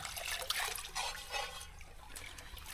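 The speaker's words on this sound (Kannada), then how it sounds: "ನೀರು ಹರಿತಿದೆ, ನೀರು ಕಮ್ಮಿ ಇಲ್ಲ" Water flows and trickles steadily at Manchanabele Dam, splashing lightly with a continuous wet hiss throughout.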